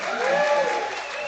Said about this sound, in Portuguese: uma salva de palmas para Renê Silva